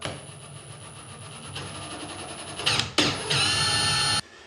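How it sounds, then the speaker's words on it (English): A power drill whirs in short bursts while drilling a 1/4 inch hole, starting with a lower hum and then rising to louder, higher-pitched spins that stop abruptly. "I'm just going to drill a 1/4 inch hole."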